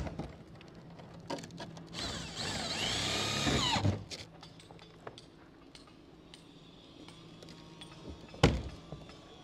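Power screwdriver driving screws to fasten stone coated roofing tiles, a sustained whirring burst followed by scattered knocks and clunks, with one sharp thud near the end; close and fairly loud, no talk.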